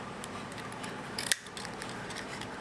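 Scissors snip through a paper strip cut about 1 1/4 inches wide for a craft punch project, one brief crisp cut standing out over a steady background hiss.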